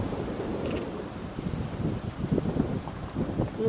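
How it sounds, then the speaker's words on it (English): Breezy wind blows outdoors beside a bayou in St. James Parish, Louisiana, as a continuous rough rumble buffeting the microphone. "A little breezy out today."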